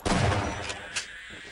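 A single loud gunshot from the video game Half-Life, with a strong close crack and a short decaying rumble, followed by a fainter second report.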